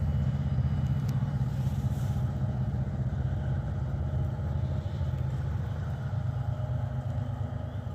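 A train locomotive labouring up a grade toward a rail yard, a steady heavy low diesel rumble heard from a distance, continuous and unchanging, with no talking.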